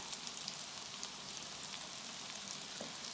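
Broccoli latkes frying in avocado oil, a steady, even sizzle of hot oil with faint crackles running throughout, with no talking.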